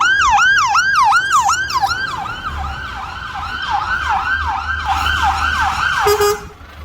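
Fire brigade siren wailing loudly and close, a rapid repeating yelp-like sweep cycling about a dozen times before cutting off, with a low engine rumble beneath.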